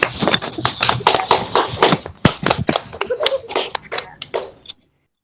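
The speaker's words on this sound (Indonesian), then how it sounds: "Oke, tepuk tangan untuk kelompok 1 ya." Schoolchildren in a classroom clapping for a student group after a presentation, a loose, uneven patter of individual claps, close and sharp, that thins out and stops abruptly near the end.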